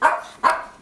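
A house dog gives two quick, loud barks close by, with no other sound around them.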